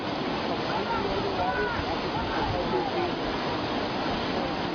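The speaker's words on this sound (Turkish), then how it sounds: "Yol adeta dere yatağına döndü." Floodwater from heavy rain in Texas rushes down a flooded road like a swollen stream, a loud, steady roar that runs without a break and sounds close.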